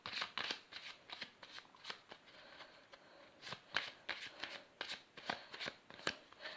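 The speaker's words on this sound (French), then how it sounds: "Après je vais mélanger." A deck of playing cards being shuffled during a card trick, giving repeated quick riffling bursts in an irregular rhythm, close and clear with no talking.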